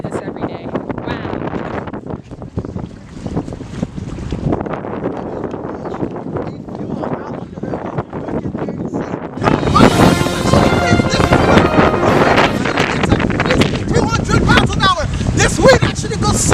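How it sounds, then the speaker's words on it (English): Strong gusting wind in the aftermath of Hurricane Irma roars and buffets the microphone continuously, growing harsher and louder partway through, with a person speaking over it. "This wind actually goes super fast."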